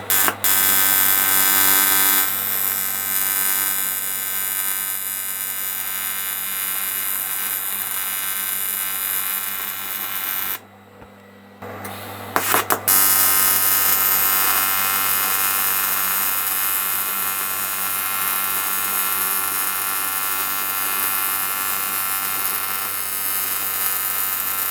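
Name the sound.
arc welding a KTM motorbike engine casing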